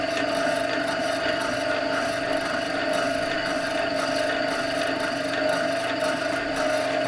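Knife blade honed flat against the leather wheel of a Scheppach Tiger 2000S sharpener, a continuous soft rubbing whir with a steady motor hum beneath, close and even throughout.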